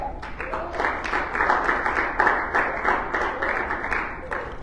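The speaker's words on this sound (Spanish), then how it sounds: "¿Cuánto dan un aplauso al Señor?" Congregation applauding during a Sunday church sermon: dense, steady clapping from many people filling the room for the whole stretch, with a few voices mixed in under the applause.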